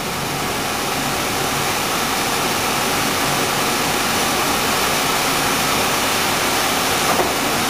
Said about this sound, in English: We're going to go on up to the high RPMs now.